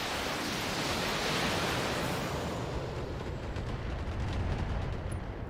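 Sustained roaring barrage of mech weapons fire in the BattleTech (2018) video game, dense broadband rumble with overlapping blasts that stays loud throughout, without any voices.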